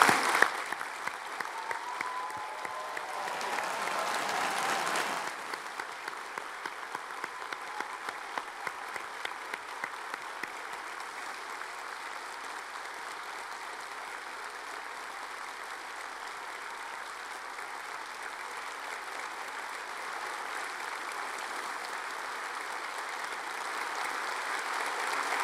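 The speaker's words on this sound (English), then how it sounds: "will you join me in expressing our applause and congratulations to all of our graduates today" Graduates at a winter graduation ceremony are met with sustained audience applause, a dense even patter of many hands clapping in a large hall that runs throughout, briefly louder near the start.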